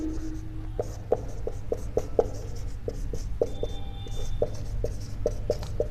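Chalk or marker tapping and scratching on a board during a class-10 Hindi grammar lesson, a steady series of short, evenly spaced strokes over a low constant room hum, close and clear with no talking.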